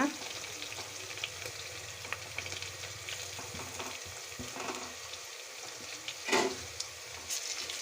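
Ginger garlic paste fries with onions in a pan for chicken biryani, a busy close sizzle broken by stirring scrapes and a sharper clatter near the end, with no voices.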